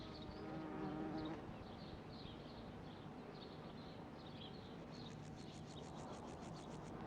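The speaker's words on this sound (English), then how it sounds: "Now bees nest inside the door." A steady buzz of bees nesting inside a door fills the whole clip, with a dense drone and faint high chirps joining near the end, no talking.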